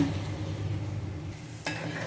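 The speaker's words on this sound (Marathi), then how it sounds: "हे बघा आपली रस्याला छान उकळी आलेली आहे" Egg curry gravy made with homemade masala bubbles and simmers in a pan, a close, steady crackling boil with a brief stirring clatter near the end.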